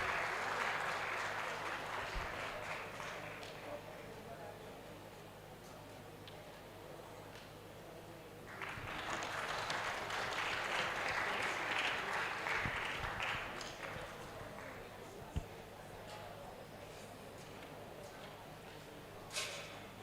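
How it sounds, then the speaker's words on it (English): Conference audience applauds an eminent speaker at an annual international research conclave, a sustained, moderately distant clapping that swells, eases, then rises again over about twenty seconds, with a few sharp knocks. "Audience, can we have a huge applause for our eminent speaker?"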